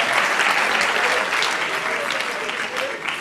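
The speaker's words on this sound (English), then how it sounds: "if we can just give them one last round of applause as well" An audience at a school festival event claps in a sustained round of applause, a dense crackle of many hands that swells and then eases slightly toward the end.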